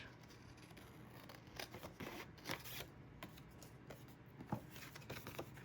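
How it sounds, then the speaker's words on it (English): Scissors cutting apart pieces from a paper pad, heard as faint, close snips and paper rustles spaced irregularly through a quiet room. "And then we'll just cut these two apart."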